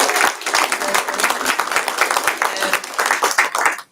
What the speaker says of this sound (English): let's have a big round of applause for student leadership